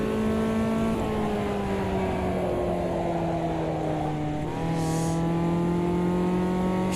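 Race car engine in the Automobilista 2 sim racing game, a loud steady drone with pitch sagging under load, then a quick dip and recovery as the throttle comes back up.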